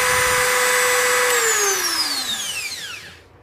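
Electric drill running on a 600VA pure sine wave inverter, a loud, steady motor whine that stays level, then falls away in pitch and volume as the drill spins down, with no electrical buzz.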